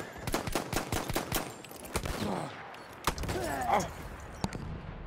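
Battlefield 1 gameplay with rapid bursts of gunfire and sharp shots, then scattered explosive thuds. A player speaks briefly over the noise.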